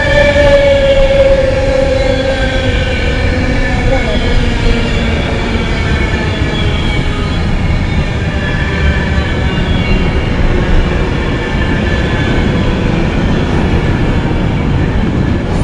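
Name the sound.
Virgin train 390021 passing, Birmingham to London Euston service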